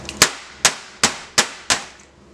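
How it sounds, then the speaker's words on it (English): A soap mold packed with soap is banged down on a hard surface five times, each a sharp, loud knock that fades quickly, spaced roughly half a second apart. "so I gotta bang it down"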